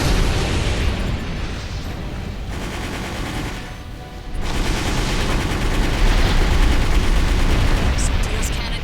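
Explosions and cannon gunfire from the Armored Core 4 Answer video game crash loudly in dense, rapid bursts, briefly thinning in the middle before resuming as a heavy continuous barrage.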